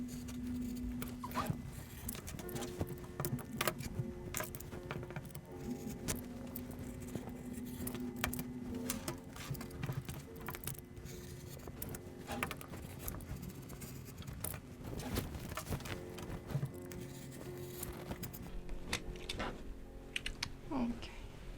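Scissors snip and crunch through fabric for a skirt in a long series of close, rapid cuts, with light rustling of cloth and no talking.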